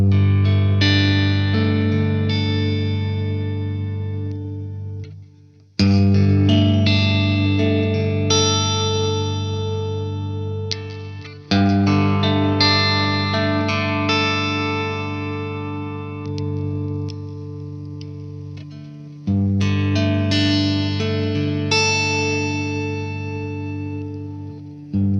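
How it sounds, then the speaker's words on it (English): Squier Stratocaster electric guitar playing clean arpeggios on single-coil pickups, bright ringing picked notes in repeated phrases about every five to six seconds, alone with effects-style shimmer and sustain. "let's listen to some clean arpeggios"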